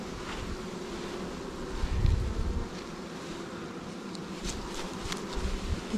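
Honey bees buzzing steadily close by at a hive, a continuous droning hum with wind rumbling now and then.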